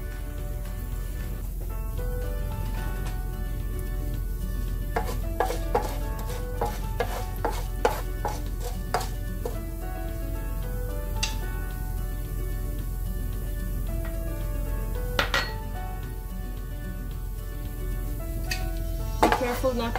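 Lentils stir-fried in a pan for an okra stir fry, giving a steady close sizzle broken by sharp clicks and taps from a utensil against the pan, with no talk.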